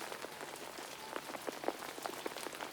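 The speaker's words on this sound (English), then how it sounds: "He could hear the rain falling outside." Steady rain falls outdoors, a soft continuous patter with scattered brighter drops tapping a surface, fairly close and even throughout, with no voices.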